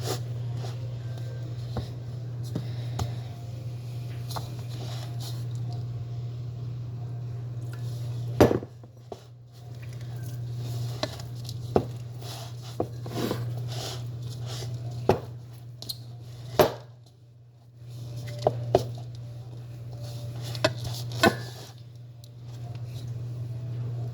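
Flour tortilla dough being kneaded by hand with extra flour worked in gives soft, irregular squishes and pats over a constant low hum, with scattered sharper knocks against the work surface.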